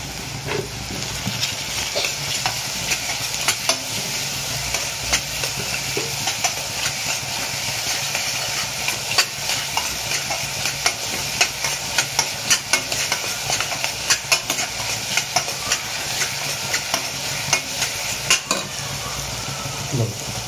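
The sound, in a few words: onions frying in a pan with salt added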